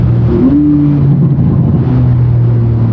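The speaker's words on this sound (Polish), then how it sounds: "każdej redukcji towarzyszy łomot z wydechów" Tuned Porsche 911 Turbo S (991), about 630 hp, roaring loudly and close through its exhaust on downshifts, a deep steady rumble with rising and falling engine tones and no voices.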